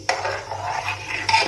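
Butter being stirred in a pan to make ghee, a utensil scraping and clinking against the metal in a short, close burst with a faint sizzle beneath.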